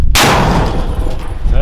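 A single deafening 120mm mortar blast right up close, a sudden boom followed by a long rumbling roar that fills the space.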